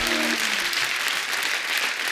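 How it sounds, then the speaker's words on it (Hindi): Studio audience on a comedy talk show breaks into loud, sustained applause, a dense wash of clapping filling the whole moment. "एक बार जोरदार ताली हो जाए।"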